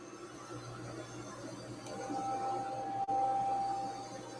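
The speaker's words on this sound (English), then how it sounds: "Let me turn off this robo vacuum because it's kind of loud." A robot vacuum cleaner running indoors, a steady faint hum and whir with a thin whine rising partway through, continuing alone in the background of a quiet room.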